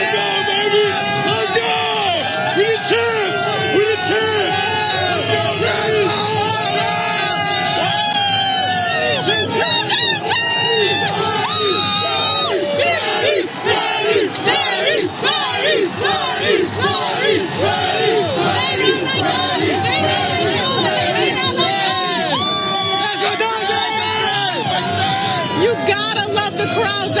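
Dense, loud crowd noise fills the street at the Dodgers World Series championship parade, with continuous cheering, whoops and chanting close by throughout, with no clear break.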